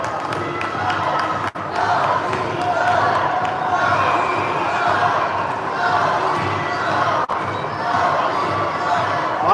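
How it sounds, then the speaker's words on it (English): A dense, loud crowd cheers and shouts continuously at a youth hockey championship game in an indoor rink, with a couple of sharp thuds cutting through the steady roar. "everybody cheering loud."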